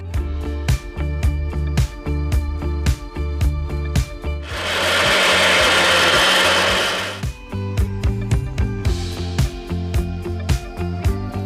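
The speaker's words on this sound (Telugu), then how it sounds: "దీన్ని ఇప్పుడు మనం మిక్సీ చేసేస్తాం" A mixer grinder whirs loudly for a few seconds in one continuous burst, grinding ginger and salt, set between rapid rhythmic clattering and knocking sounds.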